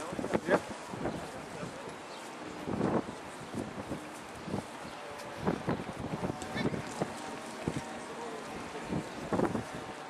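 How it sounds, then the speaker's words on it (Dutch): Outdoor wind gusts buffet the microphone at a dog-sport championship, a steady rumbling roar with irregular louder blasts while people chat nearby. "Een beetje te waaien."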